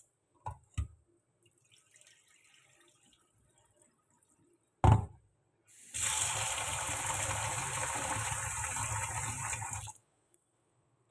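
Water from a kitchen tap runs into a pot while rice is being washed: a few light knocks and a louder clunk, then a steady gushing stream for about four seconds before it shuts off, close by and without talking.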